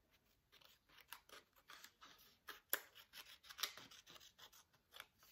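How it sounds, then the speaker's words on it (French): Small scissors snip through scrapbooking paper in a quick series of faint, close, crisp cuts with light rustling between them. "vous allez prendre tout simplement vos petits ciseaux. On enlève cette partie-là."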